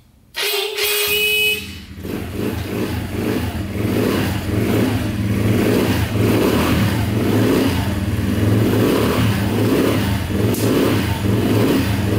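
A quad bike engine cranks and catches, then idles roughly and revs repeatedly in a loud, throaty, pulsing drone close by.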